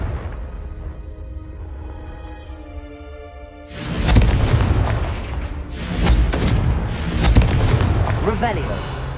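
Confringo explosive spell blasts in the Hogwarts Legacy video game, heard as several loud booming bursts in the second half, following a quieter stretch of droning game sound.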